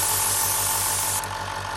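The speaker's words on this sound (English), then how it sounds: "We're just going to spray a small section" Hobby airbrush spraying acrylic paint in a steady continuous hiss across a small section of a workpiece, close and uninterrupted with no talk, easing slightly near the end.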